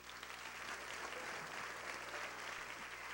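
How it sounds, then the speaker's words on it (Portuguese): Steady, dense applause from a congregation at a Christian church conference, sounding faint and distant but continuing evenly throughout without pause. "Aplaude mais forte ao Senhor."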